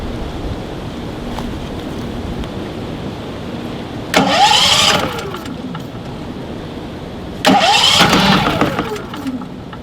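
A Champion 3500 dual-fuel generator engine, choked and running on propane, is cranked twice: two loud bursts of starter cranking and sputtering, each lasting about a second, rise over a steady outdoor background hum.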